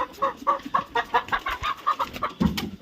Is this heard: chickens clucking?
yes